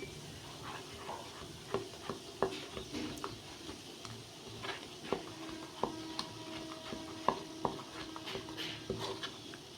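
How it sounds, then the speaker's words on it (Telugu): Batter with Eno is stirred in a bowl, giving faint, irregular clicks and scrapes of a spoon against the bowl at close range. "ఈనో కూడా వేసుకొని ఇదంతా ఒకసారి కలిపేసుకుందాం"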